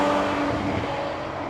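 Ferrari F12 Berlinetta with a 6.3-litre V12 engine accelerating, a loud steady close roar rising slightly in pitch over a short moment, with no voices.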